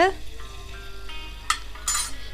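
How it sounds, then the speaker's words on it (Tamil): Ginger garlic paste frying in hot oil for chicken fried rice, a continuous close sizzle broken by a few sharp metal scrapes and clinks as a spoon stirs it around the pan. "இஞ்சி பூண்டு பேஸ்ட் நல்லா வறுந்து வர்ற வரைக்கும் நல்லா மிக்ஸ் பண்ணிக்கோங்க"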